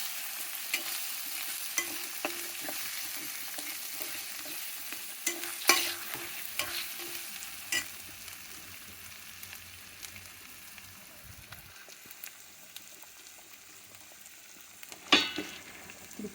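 Potatoes fry with turmeric in a pan, a soft steady sizzle under repeated scraping and stirring strokes, with a few clanks of the utensil against the pan.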